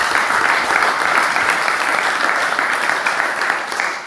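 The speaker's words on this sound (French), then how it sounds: "Applaudissons pour la femme." A congregation applauds for a wife, sustained thick clapping from many hands at steady volume, easing slightly near the end, with no talking over it.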